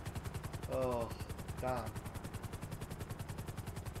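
Swift helicopter flying in GTA 5, a steady rhythmic rotor chop pulsing throughout, with a voice speaking briefly over it twice.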